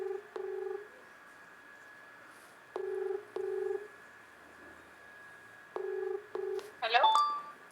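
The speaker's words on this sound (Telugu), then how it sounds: "ఇక్కడ మన పావని గౌడక్కకి ఇద్దాం ఒకసారి ఫోన్ చేసి మాట్లాడే ప్రయత్నం చేద్దాం" Touch-tone dialing on a phone before calling an activist for a Telangana news channel: short clusters of dual beeps in bursts of two or three with pauses between, ending in a brief rising electronic chirp.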